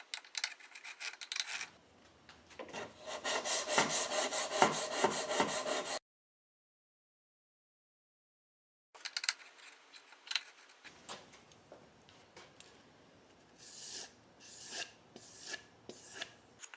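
Knife edge drawn across a sharpening stone in a DIY sharpening rig, rhythmic gritty rasping strokes close up, a silent gap, then softer scraping and a few short swipes.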